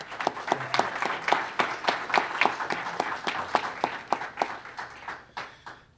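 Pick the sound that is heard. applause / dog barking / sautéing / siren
applause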